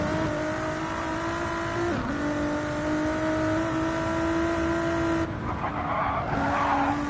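Ford GT race car in a racing video game at Le Mans screams at high revs in a steady sustained drone, with a sharp dip and gear change partway through, then tire noise and rising engine roar near the end.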